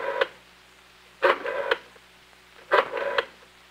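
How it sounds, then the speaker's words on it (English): A 1964 telephone dialing the three-digit General Electric location code for the New York office, heard as three separate bursts of clicking pulses spaced about a second and a half apart, close and fairly quiet, with no voices. "I wait for the dial tone, and then dial the 3-digit General Electric location code for the New York office"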